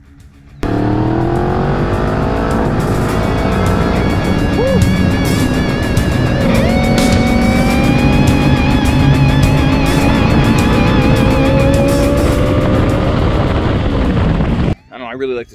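A 2011 Honda CB1000R motorcycle engine runs steadily and close by, its tone rising and falling with throttle blips over a sustained drone, before it cuts off near the end.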